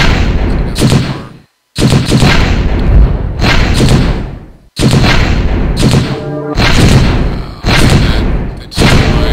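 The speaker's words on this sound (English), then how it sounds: "All I did was explode the planet." Planet exploding in the space strategy game AI War: Fleet Command, heard as a series of loud, booming blasts in several bursts with brief silent gaps between them.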